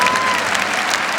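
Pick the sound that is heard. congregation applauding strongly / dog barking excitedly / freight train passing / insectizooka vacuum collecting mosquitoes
congregation applauding strongly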